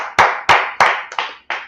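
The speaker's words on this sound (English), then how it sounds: "Let's clap it up for that." Five loud, close handclaps in a slightly uneven rhythm, each a sharp burst with a short decaying tail, from an audience asked to clap at a brotherhood gathering in Yonkers, New York.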